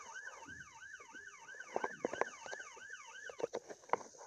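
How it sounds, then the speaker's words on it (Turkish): An ambulance siren wails in a Roblox game, a rapid rising-and-falling electronic tone repeating continuously, with scattered sharp knocks and clatter mixed in toward the end and no talk. "Ambulans götürüyormuş zaten."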